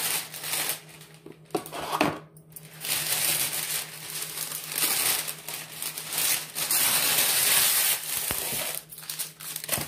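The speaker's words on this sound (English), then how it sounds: "go ahead and wrap this with parchment paper" Parchment paper crinkles and rustles almost continuously as it is wrapped around a 20 oz sublimation tumbler, close and fairly loud, with short pauses between handling movements.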